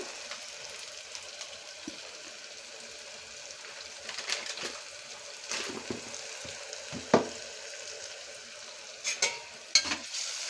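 Mutton masala with gongura leaves being stirred in a pan, giving a soft, steady frying sizzle with faint scraping and occasional clinks from the spoon, no talking.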